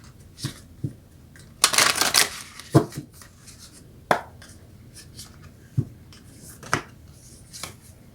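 Moonology oracle cards are shuffled, a close riffling flurry followed by scattered single card snaps and taps spaced a second or so apart, with no talking.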